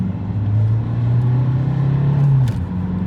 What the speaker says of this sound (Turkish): Şöyle ikinci vites 2000 devirde bastığım zaman